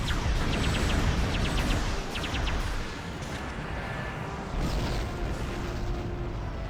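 Starship dreadnought exploding in the video game Star Trek Online during a battle, a dense roaring rush of booming blasts and crackling debris, loud and continuous with layered bursts.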